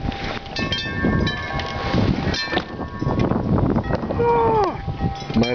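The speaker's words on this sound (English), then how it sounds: "windy outside" Gusty wind roars outdoors with broadband rumble, while a voice speaks intermittently and a high whining tone rises near the end.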